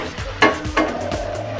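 Sheep brain for bheja fry sizzles in a pan as a spoon stirs it, two clear scraping strokes over a steady close fry hiss.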